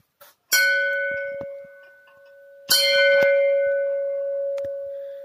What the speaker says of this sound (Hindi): जब काली माँ के पास आ ही गए हैं तो एक बार इनकी घंटी भी बजा लेते हैं।